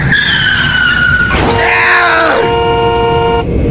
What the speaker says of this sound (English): out of nowhere, the van slammed into the back of my car.